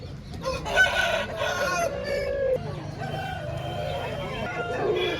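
A rooster crows loudly and close by at a rooster market in Mamidada, Kakinada district, its call rising then trailing off, with other hens clucking and faint voices in the background.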